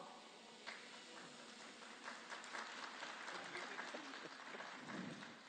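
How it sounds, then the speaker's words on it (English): An audience at a CFO conference applauds, a soft, fairly distant wash of many hands clapping that swells slightly toward the end. "At least I got you claps, Faisal."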